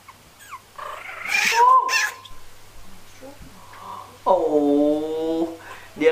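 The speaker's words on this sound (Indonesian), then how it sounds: "Aku baru tahu kalau kucing itu sangar ternyata dengan anjing." A cat yowls and growls at a dog in tense, drawn-out caterwauls, one long harmonic wail near the end, with shorter hisses and growls between, close and fairly loud over a faint steady hum.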